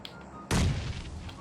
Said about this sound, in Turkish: Bekle bomba atacağım.